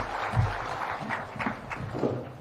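Audience applause at the opening of the Kenya Urban Forum 2023 in Naivasha, Nakuru County: a faint, steady patter of many hands clapping from a distance, with no pauses.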